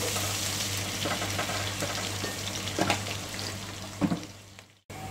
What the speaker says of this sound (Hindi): हमारी लाइट पिंक होने तक फ्राई कर देंगे प्याज को।